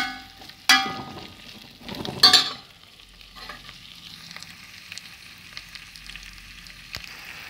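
Chopped onion frying in a pan while being stirred, a soft steady sizzle with a few sharp clanks of a utensil against the pan early on, no talk.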